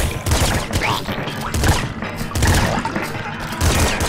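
Rapid shotgun blasts in the top-down shooter Nuclear Throne, a dense burst of repeated booming shots and impacts with little pause between them.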